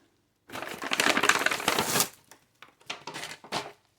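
Glass items, including a small teacup, are unwrapped from their packing in a book club subscription box, giving close, loud bursts of crinkling and crushing paper, then a few shorter rustles after a pause.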